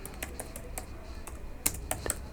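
Quiet, irregular keystrokes tap on a computer keyboard, a handful of soft clicks spaced unevenly with a few louder presses near the end.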